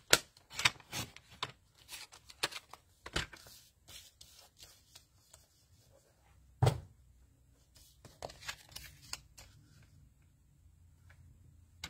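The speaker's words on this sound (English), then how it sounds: "or I could use my scissors." Card stock and designer paper are trimmed by hand with scissors, heard as a series of faint, quiet snips and crisp paper handling clicks with pauses between them, close up and without talking.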